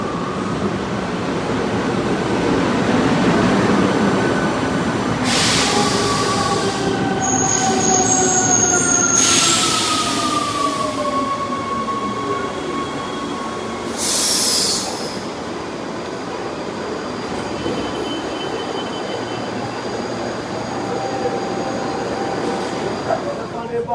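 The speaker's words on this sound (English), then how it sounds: "here are a few spare clips that I have of the Rome metro" A Rome metro train running, a loud continuous rumble with high wheel squeals rising and falling and sharp screeching bursts as the carriages move along the track.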